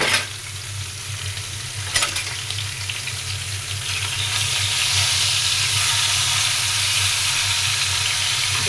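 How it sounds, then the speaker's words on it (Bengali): Eggplant and rohu fish fry in a pan with a steady, loud sizzle that swells into a stronger hiss halfway through, and a single sharp clink comes near the start. "এই তো বেগুন ভেজে মাছ ভেজে রান্না হচ্ছে"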